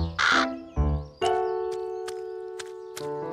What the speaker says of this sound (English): It's our friend, Mr. Crow